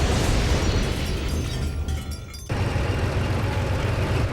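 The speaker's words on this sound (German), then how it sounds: "Jetzt haben die Deppen meinen Panzer geschrottet" A tank blown up in the Codename: Panzer war game, a dense, sustained roaring blast rumble that briefly thins and then surges back, loud and close, with no talk.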